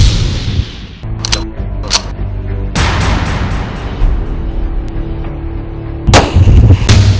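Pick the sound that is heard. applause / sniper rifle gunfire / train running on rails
sniper rifle gunfire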